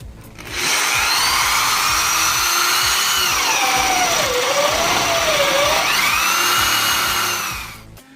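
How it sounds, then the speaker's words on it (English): A power drill whines loudly and steadily as it bores through a stack of four wooden shelf boards at once, its pitch dipping and rising under load, with no talking. "we're just going to drill through all of them at once"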